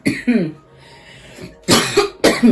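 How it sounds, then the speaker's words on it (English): A woman coughs and clears her throat several times in close, sharp bursts, with quieter pauses between them indoors. "I don't start coughing until I turn on the reading."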